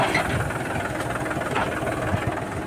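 A tractor's diesel engine runs steadily with a low rumbling chug and mechanical rattle, fairly close and continuous, with no talking, on a farm field.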